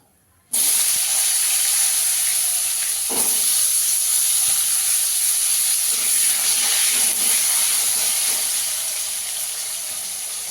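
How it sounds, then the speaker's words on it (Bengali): Potato pieces drop into hot oil used for frying fish for a Gujarati-style fish curry, setting off a sudden loud sizzle that settles into a sustained bright hiss with faint crackles, slowly easing toward the end. "এবার আলুটাকেও ভেজে নেব।"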